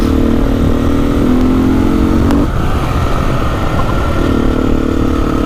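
A Husqvarna 510 SMR motorcycle engine drones loud and close while riding, holding a steady pitch, dipping briefly as the throttle eases, then picking back up.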